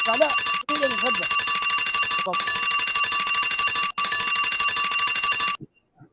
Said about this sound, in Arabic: دق الجرس